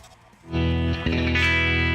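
A twangy electric guitar played through an amp sim plugin, a Fender-style amp into a Vox cabinet: one chord is struck and rings on bright and loud with no talking, after a quieter pick noise.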